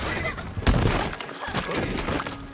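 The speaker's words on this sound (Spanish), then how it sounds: "¡Vaya hostia que se ha pegado el caballo, colega!" A horse crashing hard in Red Dead Redemption 2, one sharp impact thud with a shattering crunch followed by a whinny and scuffling, close and loud over game ambience.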